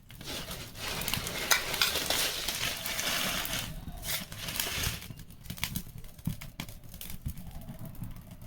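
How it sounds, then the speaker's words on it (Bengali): Cooking oil crackles and sizzles in a hot kadai in a home kitchen, a dense, close, continuous frying hiss with scattered pops and rustling stirring noises, and no one speaking. "কড়াইটা গরম হয়েছে, আমি তেলটা দিয়ে দিই।"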